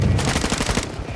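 Rapid automatic gunfire in Warzone 2 as a target is shot, a dense burst of loud, closely spaced shots filling about a second, with no talking over it.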